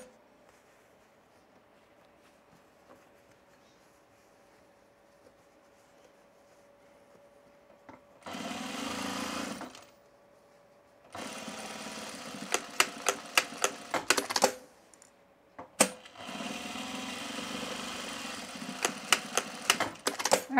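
A sewing machine stitches a tool belt in three bursts: a short run, then a longer stretch with rapid clacking, then another steady run, separated by near-silent pauses with faint handling sounds.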